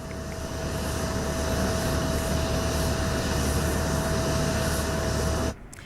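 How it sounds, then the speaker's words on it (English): F-35A and F-15K jet fighters roar during a military drill, a loud, steady broadband engine rush that holds for several seconds and then cuts off abruptly. "about 20 jet fighters, including F-35A and F-15K, participated in this drill in a show of force"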